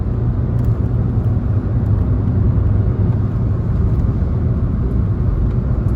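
A VW Passat B7 with a 1.4 TSI engine drives along the road, giving a loud, steady rumble of engine and tyre noise with no clear change as it slows.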